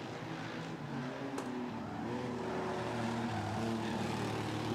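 Race cars roar around a speedway circuit, a sustained engine drone with shifting pitch as cars pass, rising slightly louder toward the end, heard from a distance without talk.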